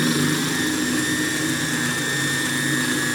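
A homemade Van de Graaff generator powered by an external 5,000-volt supply runs steadily with a loud, continuous motor whine and hum, alone and without interruption.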